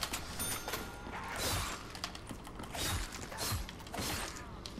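A door-opening mechanism grinds in the video game Call of Duty Black Ops 3 Zombies, a creaking, ratcheting mechanical clatter that rises in several swelling pushes over a few seconds, with no speech.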